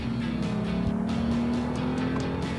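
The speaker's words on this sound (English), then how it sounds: "During aggressive acceleration, engineers designed the intake and exhaust systems to transmit more of the powerful engine sounds" A 2013 Lexus GS sedan engine revving hard and roaring steadily close by under aggressive acceleration, a loud continuous accelerating drone with no talking.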